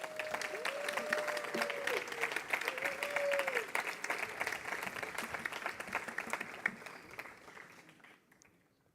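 Audience applause at an award ceremony for an innovation organization; steady crowd clapping with a faint whistle-like tone early on, sustained before fading out near the end.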